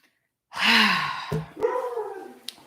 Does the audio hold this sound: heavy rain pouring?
no